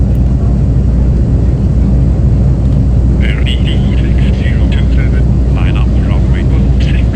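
An ATR 42-500 turboprop in a flight simulator sits on the runway at Zurich, giving a loud, steady engine drone with deep rumble throughout, while faint beeping tones come and go over it in the second half.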